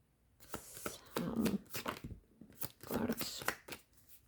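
Playing cards shuffled in a few quick riffling bursts, each a crisp rustling flutter, close and moderately loud.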